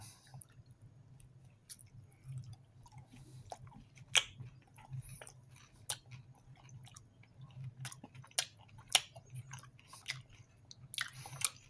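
Chewing on a peanut butter bar, close and quiet, with scattered sticky bites and soft crunching clicks spread irregularly over a low background hum, with no talk.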